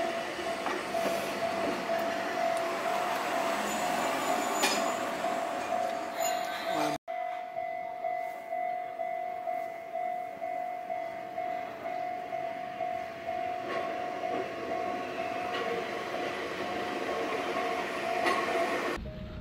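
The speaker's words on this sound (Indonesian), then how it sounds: "ngeliatin kereta yang lewat di stasiun itu" A train rumbles and rattles past a station in Kamakura, Japan at close range with a steady whining tone; the sound cuts briefly partway through, then the rolling continues.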